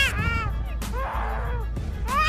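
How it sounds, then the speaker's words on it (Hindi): Black-collared starling giving loud, wailing calls that resemble a small child crying hard, several drawn-out harmonic cries in sequence over steady low background noise. "Black collar starling. इस पक्षी की आवाज सुनने पर ऐसा लगेगा जैसे कोई छोटा बच्चा जोर जोर से रो रहा हो।"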